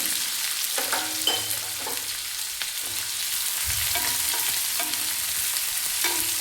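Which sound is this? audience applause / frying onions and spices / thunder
frying onions and spices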